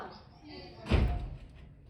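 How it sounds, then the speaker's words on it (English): A door on a stage in a live theatre production of Cat on a Hot Tin Roof is shut with a single heavy thump near the middle, and room noise fills the rest. "What did you lock that door for?"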